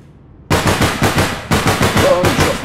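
Automatic gunfire in the online shooter APB Reloaded, loud and close: a rapid string of sharp shots begins abruptly, stops briefly, then resumes as a second fast burst.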